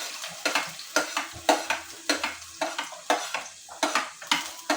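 Garlic sautés in a wok-style pan for chicken adobo, with rhythmic scraping stirs that each trigger a bright burst of sizzle, repeating roughly every half second, close and loud.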